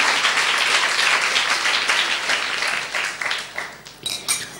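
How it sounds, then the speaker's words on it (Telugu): A church congregation claps during a Telugu sermon, dense applause that starts full and loud, then thins and tapers into a few scattered claps near the end. "నమ్మిన వారు చప్పట్లు కొట్టి దేవునికి మహిమ చేద్దాం."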